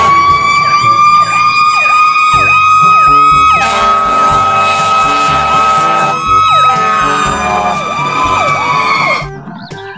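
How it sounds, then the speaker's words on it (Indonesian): An electronic toy fire truck siren wails in rapid repeating whoops, loud and close, switching patterns midway with clattering underneath before stopping. "Yang ini ada mobil pemadam kebakaran."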